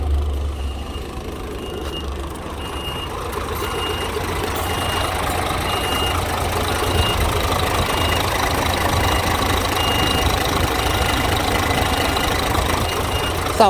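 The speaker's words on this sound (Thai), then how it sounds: "นี่คือพลังกำลังของเครื่องยนต์เขา ก็จะประมาณนี้ครับ" An Isuzu ten-wheel low-bed truck with a 6HK1 260 PS diesel engine runs at a steady, loud drone with a rough mechanical rumble throughout, close by.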